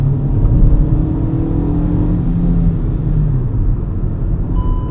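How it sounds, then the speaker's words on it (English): A Hyundai i10's small engine revs and accelerates steadily, a low droning rumble heard from inside the car with no talking. "So I like the engine note of this car as compared to the C3."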